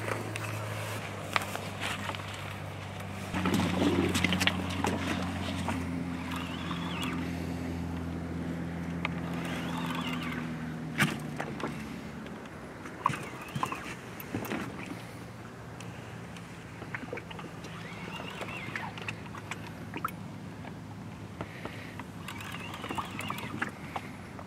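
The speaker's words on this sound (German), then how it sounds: "So, das Boot." A small boat on a lake during a catfish and carp fishing trip, with a low engine drone in the first half, water sloshing and scattered knocks and thumps on the hull throughout, fairly close and steady.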